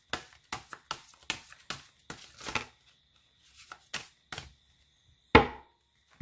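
Tarot cards being gathered and cut, heard as a quick run of close, crisp slaps and shuffling taps on a table, then a pause and one louder sharp snap of the deck, with no voices.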